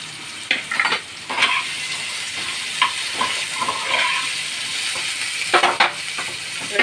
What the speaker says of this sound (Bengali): আলুটাও ভাজতে দিলাম।